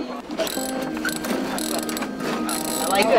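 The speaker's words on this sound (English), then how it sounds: "I like that ratchet noise." Ratchet on a sailboat clicking in quick repeated bursts, close and fairly loud, over a busy background of rigging and mechanical noise with people talking.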